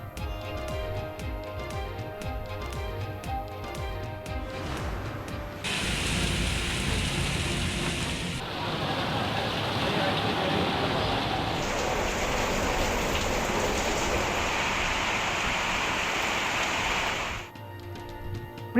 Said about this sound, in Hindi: कराची में हल्की बारिश से मौसम खुशगवार